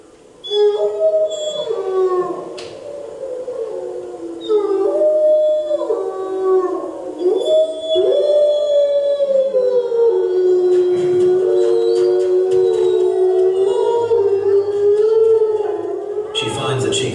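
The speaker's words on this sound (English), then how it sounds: "accumulating an archive of the pack's howls" Wolves of the Sawtooth pack howl together in the wild, several long, rising and falling voices overlapping in a loud, continuous chorus with higher yips and whimpers layered in toward the end.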